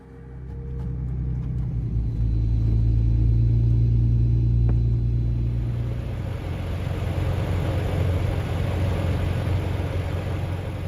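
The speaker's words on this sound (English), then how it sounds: "A car just pulled up into the parking lot. It honked its horn and then did a lap around me." A car pulls into a parking lot around 12:30 at night and circles a parked van, its engine a low steady rumble that swells and then settles into a broader, noisier drone.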